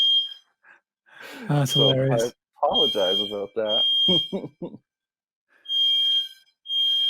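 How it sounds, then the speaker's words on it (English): A building fire alarm under test sounds as a steady high electronic tone, present at the start and returning near the end, with someone talking and laughing over it in between. "apparently we're testing the fire alarm in my building right now."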